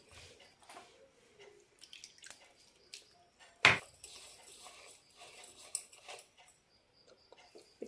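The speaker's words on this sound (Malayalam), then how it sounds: "കുറച്ചുകൂടി വെള്ളം ഒഴിക്കാം." Water poured in small amounts into homemade puttu flour, giving faint, scattered drips and soft splashes with one sharper splash midway, in a quiet kitchen.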